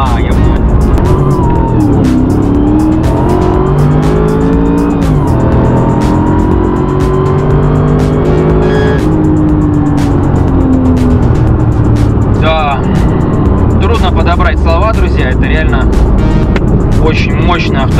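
A 626-horsepower Mercedes-Benz SLR McLaren supercar accelerates hard through its gears, the engine droning loud and steady from inside the cabin, with occasional sharp revving while people talk over it throughout.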